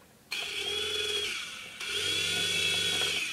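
A micro RC helicopter's tail rotor motor runs in short close bursts, a high whining buzz that starts abruptly, cuts briefly, then resumes slightly louder and steadier.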